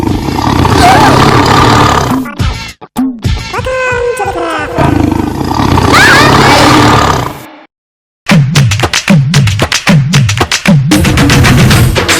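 A tiger roars loudly and at length, repeating several deep rumbling roars, then after a short silence breaks into a rapid series of throaty grunting roars.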